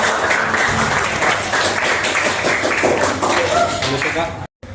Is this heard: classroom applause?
yes